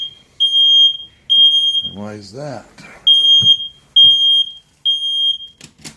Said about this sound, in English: Oh, great. There goes the alarm.